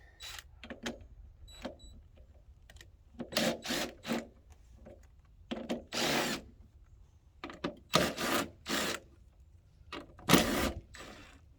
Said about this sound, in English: first thing you need to do is remove these 4 bolts right here